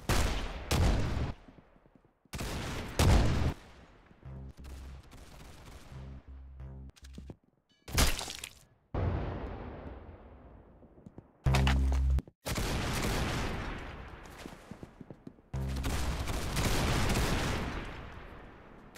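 Roblox Arsenal gunfire: repeated bursts of rapid shots and single loud cracks in separate volleys across the span, close and loud, with short silent gaps between bursts.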